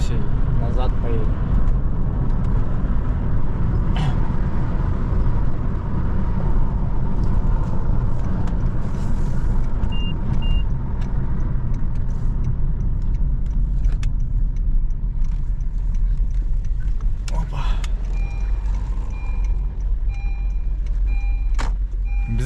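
A car drives and turns around, giving a continuous low engine and road rumble close by, with a few faint beeps and someone talking over it.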